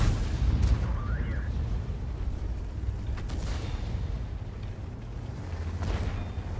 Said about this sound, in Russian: Меня арта кинула